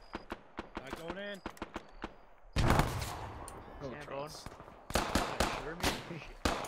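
Gunfire in a World War II Normandy D-Day paratrooper video game, sharp bursts of shots cracking out in clusters, loudest in the second half, while players talk over the action.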